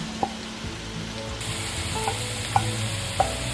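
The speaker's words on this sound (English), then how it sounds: "Give that a stir until the seasonings are well combined." Seasonings and tofu stirred in a frying pan, with a steady low sizzle and a few sharp utensil taps against the pan, no voices.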